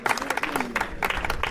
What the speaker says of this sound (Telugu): please give the big clap